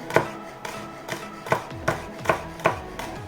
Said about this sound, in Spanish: picamos bien pequeñito el ajito